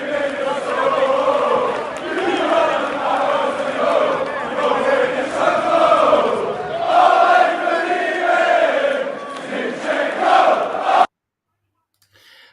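Loud football crowd chanting in unison at a Crystal Palace match, a sustained roar of many voices rising and falling for about eleven seconds before cutting off abruptly into silence.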